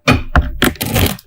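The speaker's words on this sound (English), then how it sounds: "let me shuffle here with these" Tarot cards are shuffled by hand in a few loud, close, crackling bursts of card-on-card slapping and riffling that run together over about a second.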